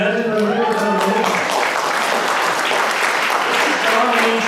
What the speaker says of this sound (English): let's give a warm round of applause to Anita I Swift